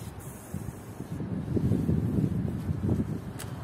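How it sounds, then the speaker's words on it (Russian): Strong wind of around 7-8 metres per second gusts through a park, buffeting the microphone with low rumbling roar that swells in the middle and then eases, no voices heard. "Прям 7-8 метров в секунду ветер."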